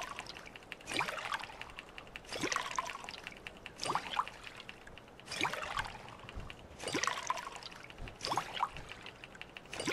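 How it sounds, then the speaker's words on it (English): Bottles being filled with dirty water in the video game Fallout 4: six short, gurgling pours arrive at a steady pace about every one and a half seconds, fairly quiet with nothing else heard. "I'm going to go ahead and fill up some dirty water."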